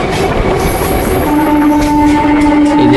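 A goods train of diesel and petrol tank wagons rolls past up close, a loud steady rumble with wheel clatter and a sustained high screech rising over the final half, no voices.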